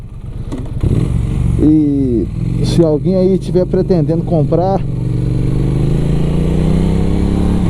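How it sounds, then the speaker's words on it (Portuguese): A motorcycle engine drones steadily while riding, a low constant rumble running under someone talking close to the microphone for most of the stretch. "Tô curtindo demais andar nessa moto"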